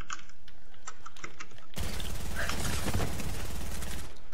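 Computer keyboard keys tapped while playing Fortnite, light scattered clicks at first, then masked by a sudden loud burst of dense game noise that fills the rest.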